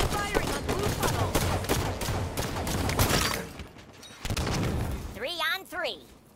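Enemy gunfire in a Halo 5 Breakout match, dense rapid bursts of automatic fire and impacts, then a short pause, with an announcer-style voice speaking over the action near the end.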